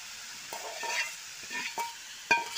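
Taro pieces sizzle quietly in a frying pan, with scattered scraping stirs and clinks punctuating a soft, steady fry.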